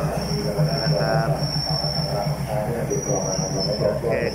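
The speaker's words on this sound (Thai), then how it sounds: "มาแล้วครับรถไฟครับ" A train rumbles steadily with low mechanical noise and a thin high whine, while someone talks over it.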